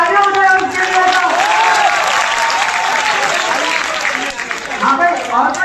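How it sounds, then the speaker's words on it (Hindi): Dense, loud applause from a large student crowd at a PhysicsWallah Vidyapeeth event on the LNIPE campus in Gwalior, sustained for several seconds as people talk over it. "भाई तालियां हो जाए उसके लिए तो।"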